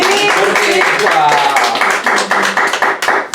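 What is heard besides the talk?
congregation applause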